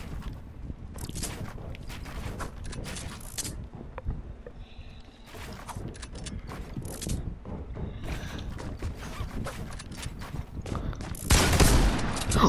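Sniper gunfire in the video game Fortnite: a dense, sustained run of loud, sharp gun reports and crackling shots, near and continuous, with a heavier burst at the end.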